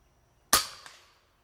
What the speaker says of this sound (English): And now we're going to shoot at that left hole.